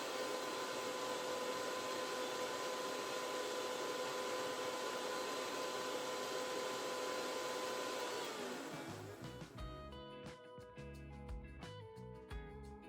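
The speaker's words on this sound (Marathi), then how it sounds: "हे परत एकदा आपल्याला मिक्सरला फिरवून घ्यायचे" An electric kitchen mixer blends mango pieces with milk and ice cream for a mastani drink, a loud continuous whirring roar that runs for about eight seconds, then winds down into rattling and clinking as the blades slow.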